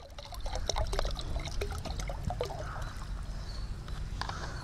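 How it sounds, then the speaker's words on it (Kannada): Cow urine is poured into water for seed treatment, giving a steady trickling, splashing pour that is close and moderately quiet and lasts throughout. "ಅರ್ಧ ಲೀಟ್ರು ಗಂಜಲವನ್ನು ಕೂಡ ನಾವು ಆ ನೀರಿನಲ್ಲಿ ಹಾಕಬೇಕಾಗುತ್ತೆ"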